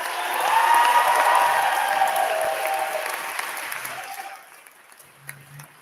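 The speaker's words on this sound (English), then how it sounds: "let's give a resounding round of applause for Tyler and Josh" A crowd in a grand hall at a live social evening event gives a warm round of applause that swells, then slowly fades out, with a brief knock near the end.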